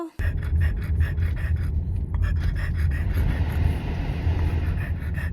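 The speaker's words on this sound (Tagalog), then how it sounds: "10 minutes nga lang kami naglakad ni Ellie, pero grabe, para bang hingal na siya." A rescue bulldog panting hard after a short walk, rapid rhythmic breaths repeating steadily and close up, with a brief pause near the start and a faint whine running underneath.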